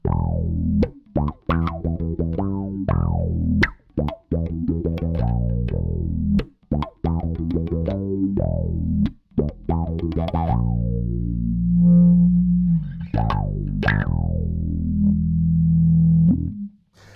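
A bass guitar runs through an MXR Bass Envelope Filter pedal, each plucked note sweeping with a quacky, wah-like tone in a busy, funky line played alone.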